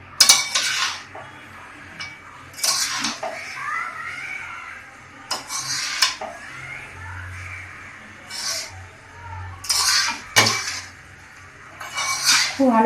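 Cooked rice is mixed with sugar in a pot, with a metal spoon clinking and scraping against the pot in irregular bursts and soft stirring between them.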